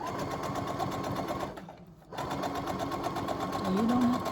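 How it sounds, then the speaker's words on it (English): A sewing machine whirs steadily while stitching back over a section of slippery purple velvet on an angel figure. It runs close and continuous, dips briefly near the middle, then resumes. "let's go back and sew it over one more time"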